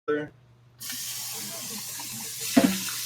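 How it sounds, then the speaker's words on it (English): Liquid with agave pouring into a pan for a short rib dish, a steady broadband splash of running liquid lasting about two seconds, close and fairly loud, with a brief clink near the end and a short voice at the start. "we're just gonna pour this in, bring this up to heat, make sure the agave just all like comes together"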